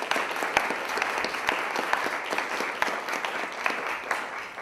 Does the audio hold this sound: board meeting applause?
yes